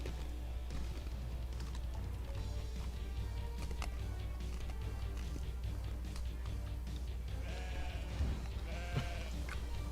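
Sheep bleat in a video game demo where a flock is tied together into a giant ball, several short bleats rising near the end over a steady low game hum.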